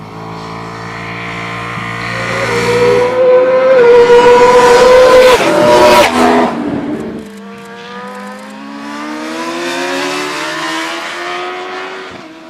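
Racing superbikes on racing tyres at the Alcarràs circuit, engines screaming up through the gears as bikes pass close, rising loud then fading into a higher droning whine.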